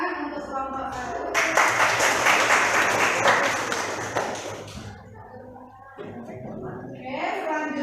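Classroom applause for a student presentation group, a burst of many hands clapping together for a few seconds before fading, with a teacher's voice speaking before and after.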